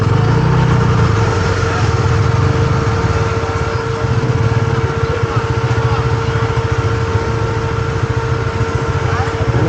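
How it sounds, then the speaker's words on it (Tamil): A vehicle engine runs steadily with a loud, continuous mechanical drone and a sustained whining tone from the radiator area, heard up close with voices talking in the background. "ரேடியேட்டர் சவுண்டு இருக்குது பாருங்க"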